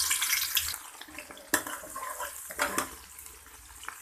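Sliced medium onion hitting hot oil in a pan for mutton haleem, with a broad hiss of frying and a few sharp sputters and clatters, fairly close and alone.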